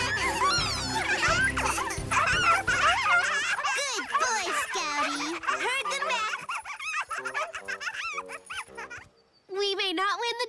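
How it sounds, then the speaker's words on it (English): Cartoon dog at a dog show barking and whimpering in short, bright, yappy bursts alongside giggles and playful music, loud and close, with a brief pause before a final burst. "We may not win the dog show, Pupcake"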